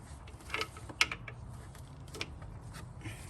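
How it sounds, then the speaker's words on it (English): A 3/8 ratchet fitted into the belt tensioner slot on a Toyota 4Runner 3.4L V6 gives a few faint metallic clicks and taps, one sharper click near the middle, close up and quiet with no talking. "You're just gonna take a 3/8 ratchet and put it in the little slot right here."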